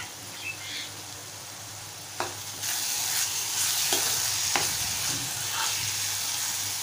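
Prawn masala cooking in a pan, a continuous close sizzle and bubbling with a few clinks and scrapes of a spoon, growing slightly louder partway through.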